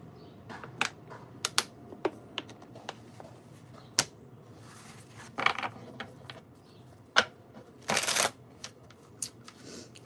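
Tarot cards being shuffled for a reading, a run of close, crisp riffles and snaps with irregular bursts and one longer riffle near the end, heard alone without talk.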